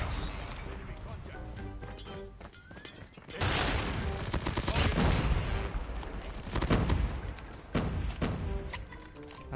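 Thompson SMG bursts in a Call of Duty match, with rapid automatic gunfire and loud crackling volleys swelling in the middle of the clip. Other explosive shots sound around it, and there is no speech over it.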